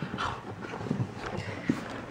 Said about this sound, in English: You are just some weird dogs,